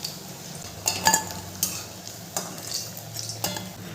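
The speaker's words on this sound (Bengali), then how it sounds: "বেগুনের টুকরোগুলো ভাজা হয়ে গেছে, এরপরে আমি তুলে নেব।" Fried eggplant pieces being scooped from hot oil over a medium gas flame: a low steady sizzle runs throughout, broken by several close metallic clinks and scrapes of a utensil against the pan.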